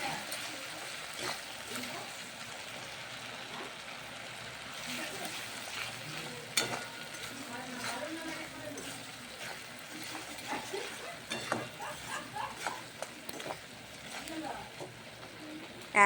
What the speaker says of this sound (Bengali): তেলের মধ্যে মশলা দিয়ে এখন মশলাগুলোকে কষানো হচ্ছে